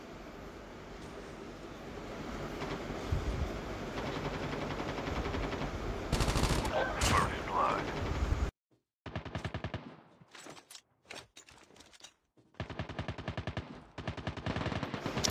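Gunfire from a PDW weapon in the battle royale video game Call of Duty Mobile, sustained rapid automatic bursts under dense game noise, then a pause and further scattered shots and bursts.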